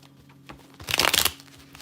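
A deck of tarot cards gets a single brisk shuffle up close, a short riffling burst that swells and fades within about half a second.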